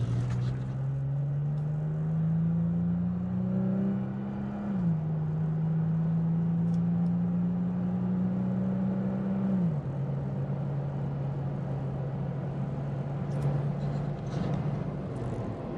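A pickup truck fitted with a Pedal Commander throttle controller accelerates under light throttle, its engine droning steadily and climbing in pitch through two gear shifts before settling into a constant cruise hum.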